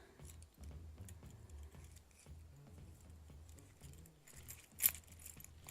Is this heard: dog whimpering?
no